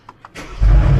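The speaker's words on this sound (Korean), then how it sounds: "오, 시동 걸렸다." Mercedes-Benz car engine starting out of warranty and with faults, a couple of faint starter clicks then a sudden loud catch into a deep steady idle rumble, close by.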